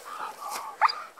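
A dog at scent tracking training gives a short bark or yelp, a single brief close sound with no talk over it.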